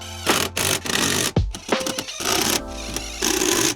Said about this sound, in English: Now it's time to put some pocket screws in.